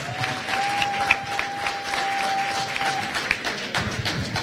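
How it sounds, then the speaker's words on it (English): An audience at a Montreal town hall meeting keeps up steady, dense applause for the Prime Minister, with a thin sustained tone ringing over the clapping for the first three seconds. "you can keep that applause going because we want to thank the Prime Minister"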